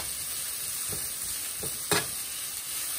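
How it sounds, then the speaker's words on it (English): Rice sautéing in a pan for Liberian dry rice, giving a faint, steady sizzle with a few soft scraping stir strokes near the end. "Just going to saute for a few minutes."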